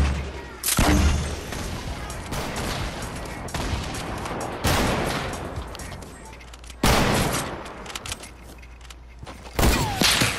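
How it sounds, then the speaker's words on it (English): Explosions and gunfire from a Fortnite match: several loud, sharp booming blasts at irregular intervals over steady crackling fire, with a voice talking in places. "Oh, you throw it back at me! Okay, have that. It's gonna explode."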